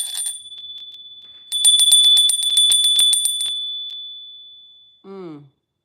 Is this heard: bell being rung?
yes